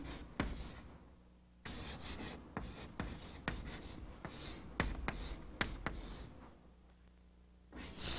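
Chalk or marker strokes on a board as an English sentence is written out during a language lesson, a series of short scratchy bursts with brief pauses between words, close and fairly quiet.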